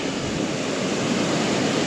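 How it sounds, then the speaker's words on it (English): Steady broadband rushing water roars without pause, dense and continuous like a nearby cascade, with no voices present, from a waterfall on a fell walk near Haweswater Reservoir in the Lake District. "picking up this waterfall on the way back"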